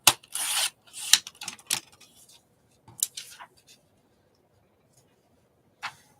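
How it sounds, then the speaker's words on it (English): A plastic straw piece being snipped off, a few close, sharp cutting bursts and rustles early on, then near silence with one last brief snip. "And I'm going to cut the straw bit off."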